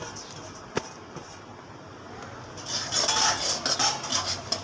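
A spoon scrapes and clinks around a pot of frothy cooked jaggery (gur) on a gas flame, soft at first then a busier run of stirring clatter near the end.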